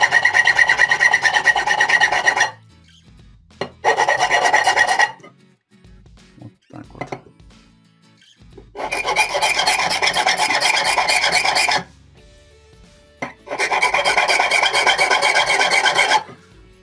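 Hand sanding on a small wooden bead for prayer beads in four long rasping bursts, each a rapid back-and-forth scrubbing, close up, with quiet pauses between.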